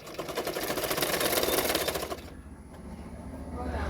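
A sewing machine runs fast, stitching a blouse sleeve, a rapid even chatter for about two seconds before stopping, then a quieter hum as someone speaks nearby.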